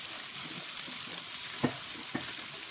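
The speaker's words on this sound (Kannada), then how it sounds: "ಇವೆರಡೂ ಬ್ರೌನಿಷ್ ಕಲರ್ ಆಗೋ ತನಕ ಫ್ರೈ ಮಾಡ್ಕೊಬೇಕು" Garlic sizzles in oil in a pan, frying toward a brownish color, with a steady low crackle and a couple of sharp clinks of a spoon against the pan.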